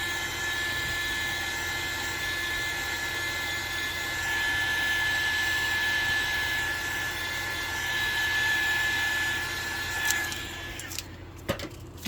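Heat tool blowing hot air onto resin for mermaid-tail towel holders, a steady whooshing hum that runs continuously before cutting out near the end, with a few brief clicks after it stops.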